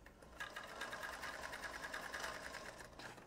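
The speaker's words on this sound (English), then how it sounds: "Okay, so we're just going to sew it." A sewing machine runs in a steady burst, its needle stitching fabric with a fast, even mechanical chatter, close and alone for about three seconds.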